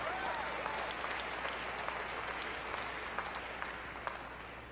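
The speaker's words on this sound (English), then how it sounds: "Yeah, you can clap for that." Crowd at the 2018 Desert Hills High School graduation claps steadily, a continuous, fairly distant wash of applause from a large audience filling the whole stretch at an even level.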